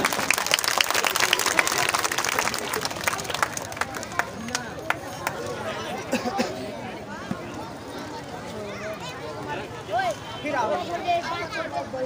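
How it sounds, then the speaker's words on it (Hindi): An audience at a Republic Day (26 January) poetry gathering breaks into loud, dense applause and clapping, strongest at the start and then thinning into scattered claps and crowd noise. "एक बार जोरदार ताली बजाएं आप हज़रात।"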